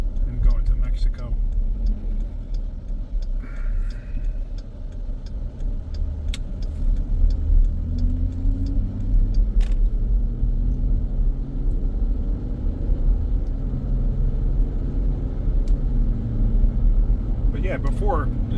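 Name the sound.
Jeep engine accelerating, running without misfires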